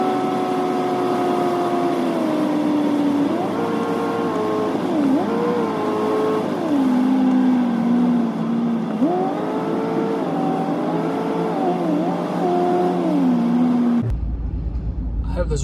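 A car cruises with traffic at about 50 mph on a wide road, its engine and tire drone steady and loud throughout, rising and falling slightly with small speed changes, then cutting off abruptly near the end.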